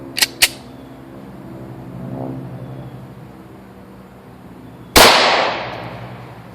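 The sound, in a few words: gunshot from a .357 SIG caliber firearm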